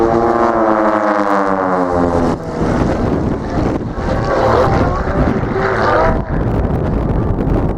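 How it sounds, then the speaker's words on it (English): A 2002 F1 Harmon Rocket flies aerobatics at an airshow, its engine droning loudly overhead with a shifting, sweeping pitch as it maneuvers, mixed with heavy wind buffeting on the microphone. "flying a 2002 F1 Harmon Rocket"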